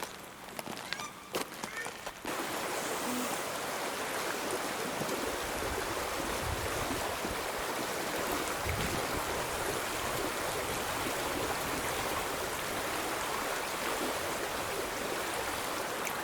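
The Hororata River in New Zealand streams past in a constant close rush of water, preceded by a few seconds of handling knocks and splashes from someone wading in the river.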